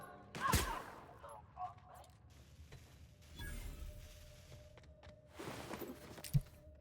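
Semi-automatic sniper rifle shots in the video game The Outer Worlds, a few separate sharp reports spaced out among quiet game ambience and low talking.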